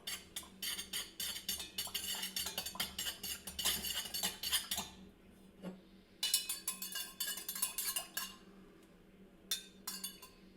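Colouring being stirred into candle wax in a container, a run of close clinking and scraping taps that pauses briefly and then resumes, with no talking.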